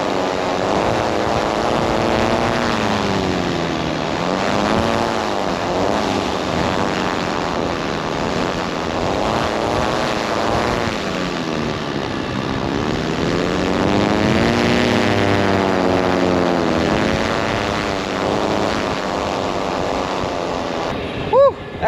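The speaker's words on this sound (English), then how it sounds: "I'm gonna hold up my drone, and it's gonna make all the 4 propellers turn. It's gonna sound like the drone is on, but the drone is off." Gusting wind spins the four propellers of a switched-off drone, producing a buzzing, whirring hum that rises and falls in pitch with the gusts alongside wind rush, sustained for about twenty seconds.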